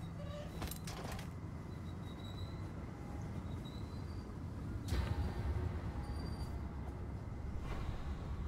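Train-yard ambience from the Pathologic video game: a low, steady rumble carries faint metallic clanks and a couple of sharper knocks, with brief high squeals drifting in and out.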